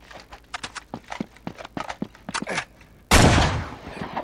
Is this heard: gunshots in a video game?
yes